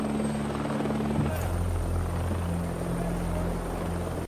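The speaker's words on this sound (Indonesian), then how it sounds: "keesokan harinya Iceman pun datang dengan sebuah helikopter" A helicopter arrives with a loud, steady rotor thrum and engine whine that fills the whole moment, with a narrator's voice speaking over the noise.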